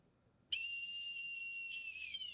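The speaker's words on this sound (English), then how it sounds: "you take this whistle and you blow" A whistle blown once in a single long, loud, steady blast lasting close to two seconds, with a slight wavering near the end and only a faint low background hum underneath.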